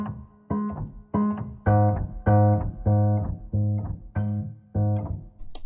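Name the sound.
piano key release noises, Fracture Sounds Glacier Keys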